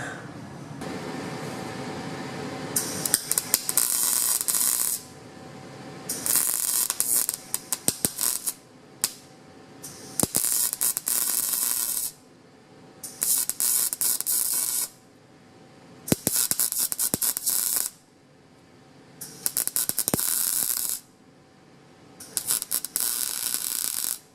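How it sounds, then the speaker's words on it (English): Welding on a Suburban truck near the turbo charge tube, with repeated bursts of loud crackling arc, each lasting a second or two and separated by short pauses, close up with no talk. "Let's get welding."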